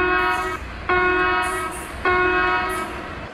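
An Indian railway locomotive horn sounds three times, each a loud, harmonic-rich blast, the first short and the next two longer and sustained, close and dominant over background rumble.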